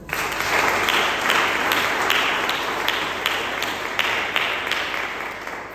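A church congregation applauds steadily and loudly, many hands clapping together at close range in a dense continuous wash that fades slightly toward the end.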